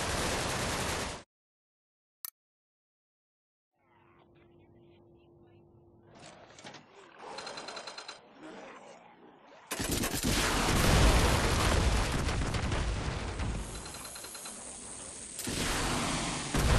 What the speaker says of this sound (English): Say F you to your enemies with this high rate of fire assault rifle.